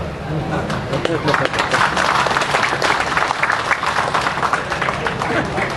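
A congregation claps hands at a religious gathering, a dense, loud and sustained burst of applause filling the whole stretch with no pauses.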